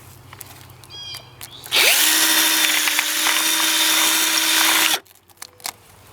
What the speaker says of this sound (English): I just like to make a little stack like this and then drill a hole right here.